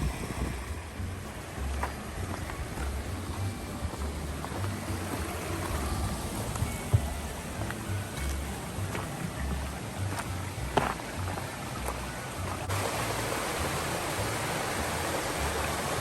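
Creek water flows steadily over loose rocks in a granite canyon, a constant broadband rushing with no break, close by and fairly loud, with a few faint knocks on top and no talking.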